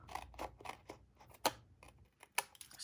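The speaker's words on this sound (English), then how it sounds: "I can just take my paper snips here and trim this edge" Paper snips cut along the edge of a piece of card paper, making a few crisp, close snipping clicks spread irregularly across a quiet background.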